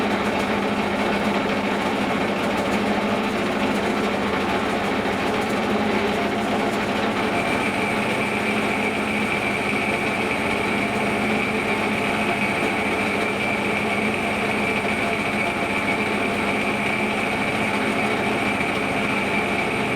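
A lathe cutting tool skims damaged material from inside a Thomas Dingo 25G wheel hub, a continuous loud machining whine and grind that holds steady for twenty seconds, with a higher tone joining partway through.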